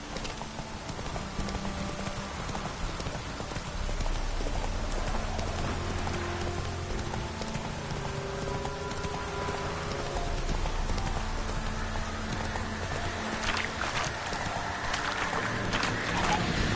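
Hooves of the horse Roach clip-clop steadily through a video game world. The even trotting rhythm sits under rain-like ambient hiss and low background music.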